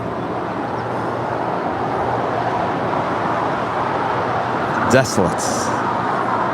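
Road traffic rumbles along Imperial Highway near LAX, a steady broadband wash of passing vehicles with a louder pass or clatter near the end, while a voice speaks briefly over it.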